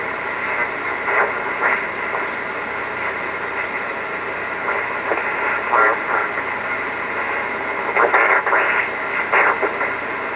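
An old radio hisses with steady static while faint, garbled voice fragments rise and fall beneath the noise, never becoming clear.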